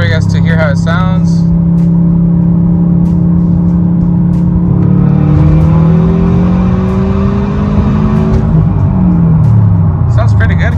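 Subaru WRX STI fitted with an exhaust valve mod, accelerating hard in sport mode: a loud, close engine note climbing steadily in pitch through the revs, with a brief voice near the start and end.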